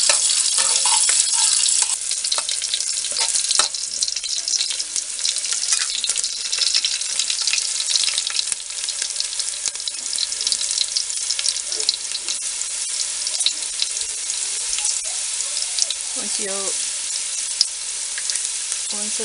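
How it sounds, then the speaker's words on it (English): Cut fish pieces frying in hot oil for a Karwar-style fish curry, a steady loud close sizzle and crackle that continues unbroken throughout with no talking. "you take this cut pieces and fry it in oil, with oil for at least 2 minutes"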